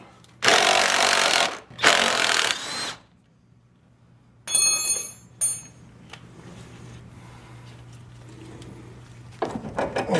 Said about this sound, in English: so we can just take all these bolts off.